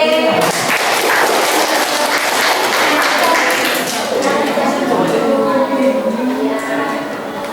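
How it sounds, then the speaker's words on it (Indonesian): A classroom group claps for group B, with a broad, sustained wash of applause that fades slightly toward the end and is mixed with voices. "berarti kita beri aplaus terhadap kelompok B"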